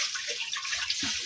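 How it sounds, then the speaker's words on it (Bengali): Water is poured into a wok for making kulfi pitha with rice flour, a short splashing, gurgling pour heard up close. "কড়াইতে দিয়ে দিলাম জল"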